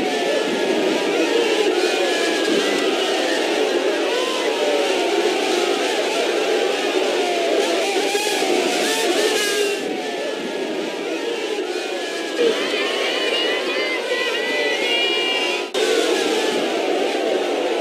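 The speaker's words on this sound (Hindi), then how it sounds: "घर घर मोदी, हर हर मोदी का नारा लगाते हुए, ये कुछ एम्बियंस आप सुनिए" A large crowd at Prime Minister Modi's visit to Deoghar roars and chants slogans in a dense, continuous wall of voices. The sound stays loud and sustained throughout, with no single voice standing out.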